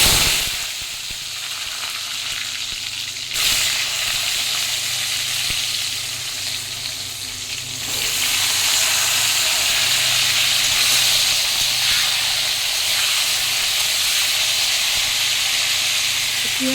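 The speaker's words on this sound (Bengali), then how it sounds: "পটলটাকে ভেজে তুলে নেবো।" Salted pointed gourd fries in hot oil in a kadai, a loud steady sizzle and hiss that jumps as pieces go in and keeps crackling near and continuous.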